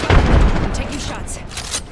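Gunfire in an Apex Legends match, a heavy booming shot up front followed by lighter cracks, with a player's voice talking over it.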